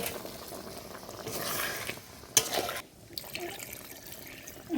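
Prawn malai curry with coconut milk, potatoes and spices bubbling in a pan, a soft continuous simmer with a few brief clatters and shifts, moderately close.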